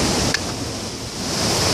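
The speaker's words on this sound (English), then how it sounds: "look how the water gets inside" Steady broadband rush of river water flowing into a horizontal-wheel grain mill, a continuous close wash with no pauses and no voices.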